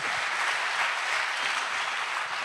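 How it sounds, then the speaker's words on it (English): An audience at a political speech on African liberation claps, a steady, dense wash of applause with no talking over it. "Give ourselves a clap."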